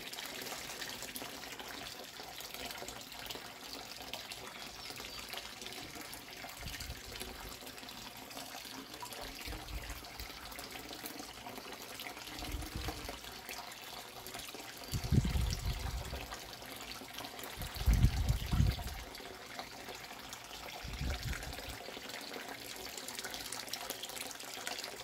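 Water and fish poured from a bag into an aquaponics tank, a dull splash and gush rising in two louder bursts near the middle over a steady background hiss, with no talking.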